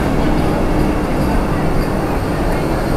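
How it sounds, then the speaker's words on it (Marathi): A new Vande Bharat train of Indian Railways rushes past, heard from aboard another train as a loud, steady rumble and rail roar filling the whole stretch without a break. "ही नवीन वंदे भारत दिसली यार"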